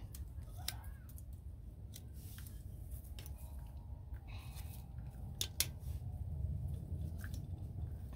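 Scissors snipping pink jasmine stems for propagation, a few faint crisp clicks scattered over a low background hum, close but quiet.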